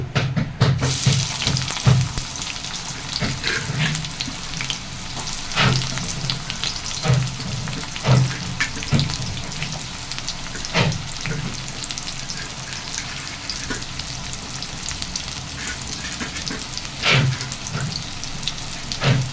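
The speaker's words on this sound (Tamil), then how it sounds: "இப்போ வെங்காயம் போட்டுக்கலாம்." Onions hit hot oil with crackled fennel seeds, giving a steady close crackling sizzle with occasional stirring clinks and scrapes, and no voices.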